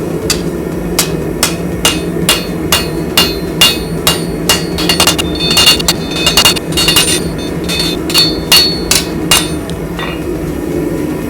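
Hammer striking heated metal on an anvil while forging a sword blade, a steady series of loud, ringing, close blows at roughly half-second intervals over a low background rumble, with no talking.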